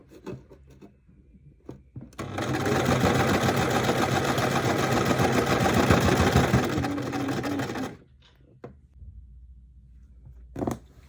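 A sewing machine stitches a seam on linen shorts, running at a steady, fast whir for several seconds. Soft handling clicks and rustles of fabric come before and after.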